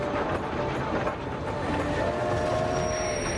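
A train rolls steadily along the rails with a continuous rumble, faint wheel squeal and intermittent metallic tones, filling the space at a constant, fairly loud level with no talk.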